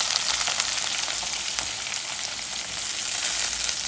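Onion goes into hot frying oil with garlic and panch phoron for a pumpkin and shrimp curry, producing a continuous, even, close sizzle with faint spattering crackles throughout.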